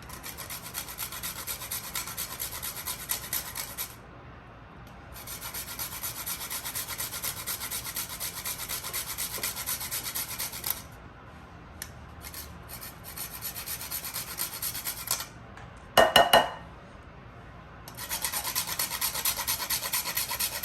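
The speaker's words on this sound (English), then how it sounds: "So I'm going to go ahead and grate our nutmeg into here." Nutmeg rasped on a grater for a cassava cake, steady scraping strokes in long runs with short pauses between, close and fairly loud, no talk.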